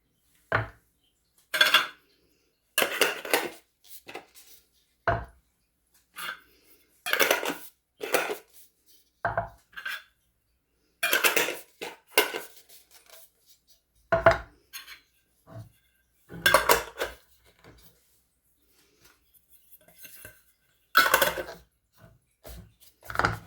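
Glass jars of fish being preserved clink and clatter as new lids are screwed down tightly, a long run of irregular knocks, taps and scraping twists close by, with brief pauses between bursts and no talking.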